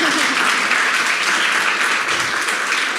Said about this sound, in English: I don't think I've ever heard a clap for seashells and whatever.